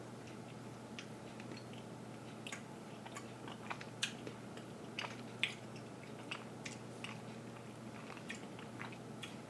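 Soft, moist MRE bread gets chewed close up, with quiet, irregular squishy bites and small clicks over a steady low hum.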